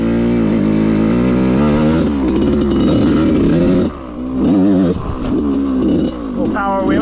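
A dirt bike engine revs hard on a woods trail during a power wheelie, loud and close with rising and falling throttle surges and a brief dip before picking up again.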